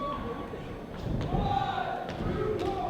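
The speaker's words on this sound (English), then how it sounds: "nice missile drop kick." A wrestler lands a missile drop kick in the ring, a heavy thud on the mat amid crowd noise while a commentator talks over the action.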